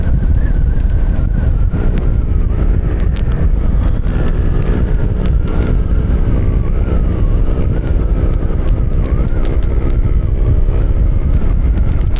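Steady, loud wind buffets the microphone while riding a Honda Fortress 160 motorcycle on an open road, a dense continuous roar with a faint engine hum beneath it and occasional sharp gusts, with no talking.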